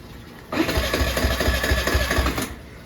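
A Suzuki Burgman 125 scooter with a starting fault cranks for about two seconds: a sudden whirring starter with quick, regular pulses that cuts off abruptly without the engine catching.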